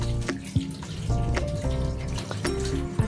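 A tap runs steadily at a sink during hand washing, a continuous close splashing stream with brief clinks and faint rubbing over it, with no voices.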